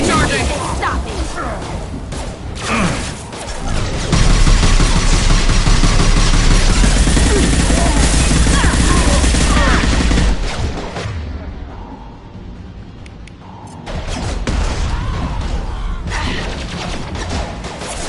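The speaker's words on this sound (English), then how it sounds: "Firing a high impact shot." Sustained gunfire in the video game Mass Effect 2, a dense, loud barrage of shots and impacts that briefly quiets before resuming, with voices talking over the fighting.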